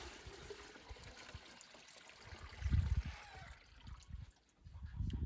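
Maple sap poured from a hanging collection bucket during maple sugaring on a bee farm, a faint, steady trickle with a few heavier gurgling splashes.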